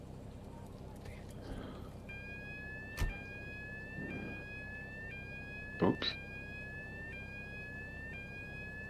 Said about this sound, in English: Lovely gate sound.